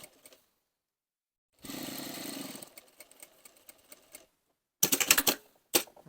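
A sewing machine stitches a welt pocket on an angled waistcoat pocket in short close bursts, one run of about a second, then quieter ticking and two sharp louder bursts near the end.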